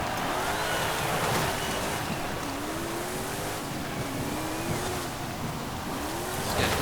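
A 1972 Land Rover Series III engine revs and accelerates in Forza Horizon 5, a steady loud drone with rising pitch sweeps as it climbs through the gears, heard alone under a wash of noise.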